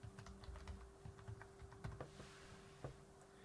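Keys clatter on a computer keyboard as a password is typed during software installation, a steady run of light clicks with a faint hum beneath.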